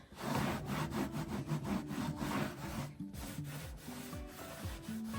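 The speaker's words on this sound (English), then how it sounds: "So I just dipped a soft t-shirt into some clear wax, and now I'm just rubbing away the excess." A soft t-shirt dipped in clear wax rubs over a wooden surface, giving steady, close scrubbing strokes with rhythmic back-and-forth friction throughout, fairly loud and continuous with no talking.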